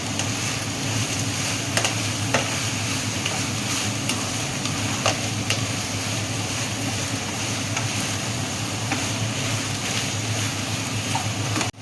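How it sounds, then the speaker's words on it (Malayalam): Damp elephant foot yam stalks sauté in a pan with a constant low sizzle and sharp ticks of a spoon scraping and knocking the metal, a steady bed of sound running throughout. "ഇത് നന്നായിട്ട് കൂടി ചേർക്കുക. ഇതുപോലെ വഴറ്റിയെടുക്കുക."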